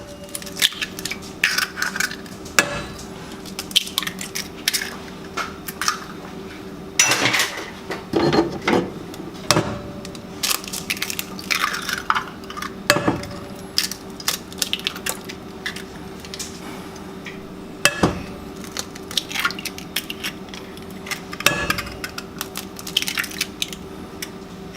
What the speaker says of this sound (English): we're going to combine the eggs.